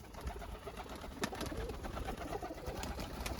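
Flightless pigeons, including peacock (fantail) pigeons, coo steadily in a loft, a soft continuous murmur of overlapping low calls with occasional sharper sounds and no talking.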